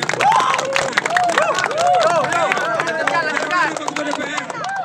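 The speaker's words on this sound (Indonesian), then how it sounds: "Tepuk tangan dong untuk grup" A crowd at a football tournament closing ceremony applauds the Terbangan and Kuntau performance groups, with scattered claps under lively overlapping voices, cheering and chatter.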